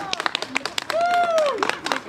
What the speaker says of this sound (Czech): Potlesk pro vás, dámy a pánové.